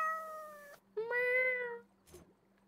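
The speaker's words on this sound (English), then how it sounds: "Nice little cat noise for him." A cat meows twice up close, two clear drawn-out calls with a brief pause between, followed by a short soft chirp, over a quiet low background hum.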